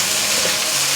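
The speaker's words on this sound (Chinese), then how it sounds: "第一步骤一定要先把这个豆干炒香" Dried tofu stir-fried in a pan gives a short, steady sizzle with faint scraping of stirring, close and alone with no talk.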